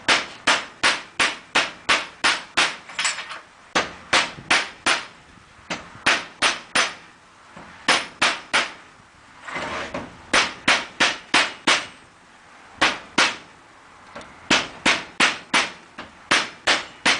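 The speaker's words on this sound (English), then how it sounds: "Use a rubber hammer and just work your way around and knock the crown wheel off." A rubber hammer knocks the crown wheel off a Toyota front differential, striking in quick bursts of three to five sharp, loud blows separated by short pauses, steady and close throughout.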